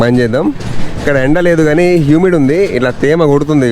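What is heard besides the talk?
No everyday noises stand out.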